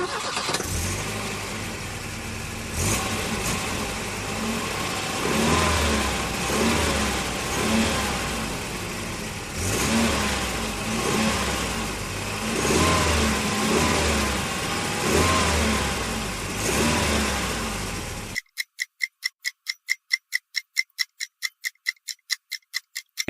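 A Volvo car engine revs in a sustained, smooth roar with rising and falling throttle swells for about eighteen seconds, then stops abruptly and a fast, sharp ticking like a clock follows.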